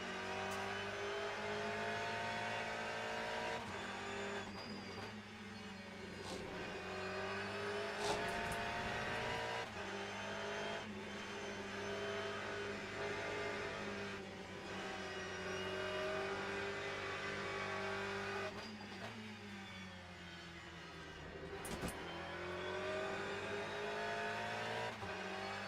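A Ferrari race car in the sim racing game Le Mans Ultimate during an online race, its engine droning loudly and continuously, rising and falling through gear changes with brief throttle lifts and shifts.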